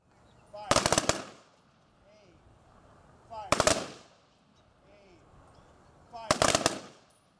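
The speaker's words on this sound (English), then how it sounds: "Members of the Legion performed the 21-gun salute and taps." Three crisp rifle volleys from a 21-gun salute by American Legion members at a Memorial Day ceremony in a Sioux City park, each a tight cluster of cracks spaced about three seconds apart, ringing out over quiet outdoor ambience.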